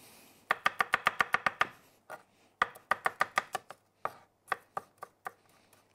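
Garlic and onion are chopped coarsely with a knife on a board while making a sauce for shashlik, giving rapid, crisp, close-up knocks in quick runs broken by short pauses.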